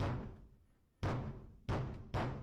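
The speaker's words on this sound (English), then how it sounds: "banging on the doors" Heavy banging on doors in an empty haunted house: a booming thud, then a quiet pause, then two more loud, echoing bangs in quick succession, with no talk.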